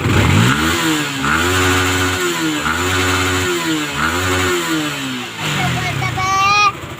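A Yamaha Sniper 155 motorcycle engine, repaired after a basic problem, runs close by and revs in repeated rising bursts with idling between them, while a voice talks over it.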